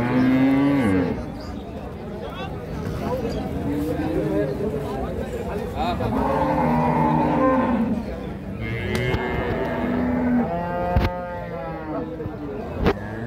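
A Holstein Friesian cow and calf at a village cattle market low with several long, throaty moos, close and loud, while people talk nearby.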